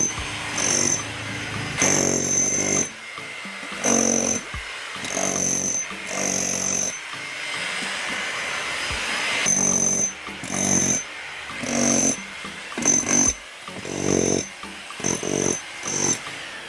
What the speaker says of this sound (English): I'm gonna use my my jackhammer to try and ding it up a little bit.